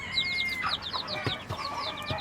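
A broody Gurk hen clucks softly and repeatedly close by in a rural farmyard, her low throaty clucks mixed with higher peeping chirps and a few sharp taps.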